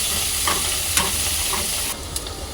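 Curry leaves, coriander, onion, garlic and green chillies fry in a pan while a spoon stirs them, giving a steady sizzle with a few soft scraping strokes and no voices.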